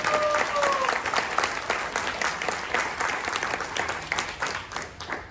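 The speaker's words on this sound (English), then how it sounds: "let's have the applause down" Sustained audience applause and clapping fill a crowded Comic-Con panel room, loud and dense throughout, with some cheering and a brief whistle near the start.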